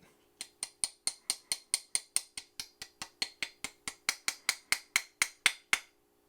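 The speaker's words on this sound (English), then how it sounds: "Now I'm going to use my replacement trigger pin right here and reposition that" Sharp metallic taps ring out close and loud, about twenty-five evenly spaced strikes in a steady rhythm as a replacement trigger pin is driven into an S&W Model 39 pistol frame, with no voices.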